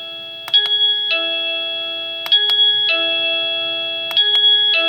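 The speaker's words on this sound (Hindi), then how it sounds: "एक जो चीज मुझे इसकी पसंद नहीं आई वो है इसका चाइम।" A Qubo video doorbell's chime plays its sample tone, bright bell-like ding-dong notes struck several times in a repeating pattern, each ringing out with a sustained tonal decay, loud and clear without any talk.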